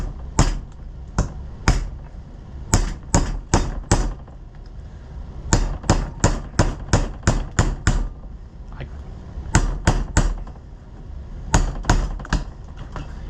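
Repeated metal-on-metal hammer strikes driving pins out of a John Deere 2020 tractor hydraulic coupler, landing in quick bursts of several blows separated by short pauses, loud and close with no talking.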